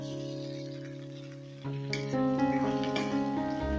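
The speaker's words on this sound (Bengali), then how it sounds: "এবারে আমি দিয়েছি ভাজা পটল আর আলুগুলো" Fried pointed gourd and potato pieces are stirred with onion in a pan while cooking posto, giving a steady soft sizzle with scraping that grows busier and louder about halfway through, under a constant tonal background hum.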